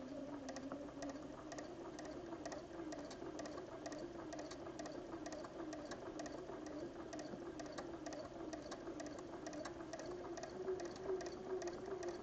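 A sewing machine stitches in the ditch between quilt panels with a steady rapid mechanical chatter, even and close, running continuously at low volume with no voices.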